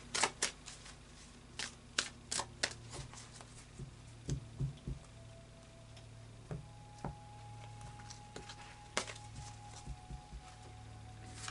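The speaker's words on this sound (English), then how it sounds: "So a final shuffle of the Anakay Tarot." A deck of Anakay tarot cards is shuffled by hand, sharp irregular riffles and soft card taps coming in quick bursts close by, then thinning out toward the end in a quiet room.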